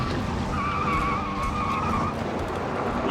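A car's tyres squeal in a sustained skid as the driver brakes hard and steers through a J-turn, the screech held for about two seconds over steady engine and road rumble.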